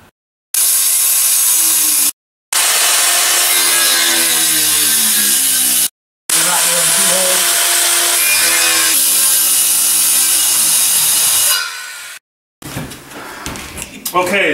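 Power saw with the blade set to 3/4 inch cutting through the wood floor of a new 2014 South Bay pontoon boat, a loud sustained whine in long bursts separated by brief pauses.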